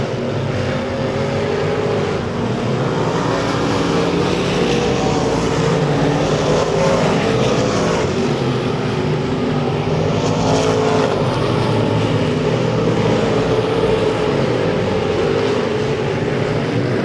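Race cars roar around a dirt track speedway at Lake of the Ozarks, a dense, continuous engine drone of several cars at close range, loud and steady with slight surges as the pack passes.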